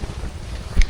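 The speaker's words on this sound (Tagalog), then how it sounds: "Ang lakas po ng hangin ngayon." Strong amihan wind before dawn on the coast at Lobo, Batangas, roaring as a steady low rush against the microphone, with a sharper gust buffeting near the end.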